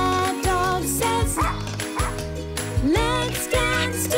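A cartoon dog barks in a children's ABC song, several yips and bow-wows popping out over a bright, steady musical backing with a faint jingle.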